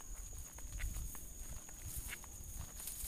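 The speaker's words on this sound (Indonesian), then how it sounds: "Tuh, ini suara sendal sampai begini ya." Sandaled feet step along a damp forest footpath near a remote house in rural Sumedang after rain, the soft irregular slaps close and quiet.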